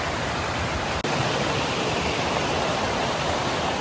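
Steady broadband rush of a river flowing beside a woodland path near Melincourt Waterfall in Neath, South Wales, a constant close wash of water with one brief dip in level.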